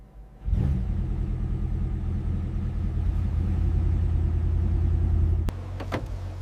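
A restored 2015 McLaren 570S Coupe starts up and drives, its engine settling into a loud, steady low rumble that holds for several seconds before easing slightly near the end, with no voices.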